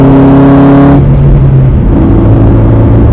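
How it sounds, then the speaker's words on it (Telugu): A Jaguar XF accelerates hard, its engine note loud and close with steady rising harmonics, then shifting into a broader roar as the car pushes on at full speed. "ఫుల్ స్పీడ్గా జమ్మని వెళ్ళిపోతుంది."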